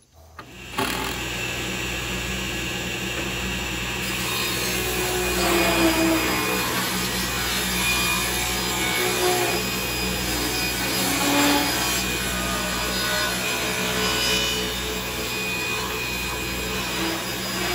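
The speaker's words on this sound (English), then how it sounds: "I was ripping on the table saw" A table saw rips strips of white oak in one continuous, loud whining cut that drones steadily after a sudden start, with the pitch shifting slightly as the wood feeds through.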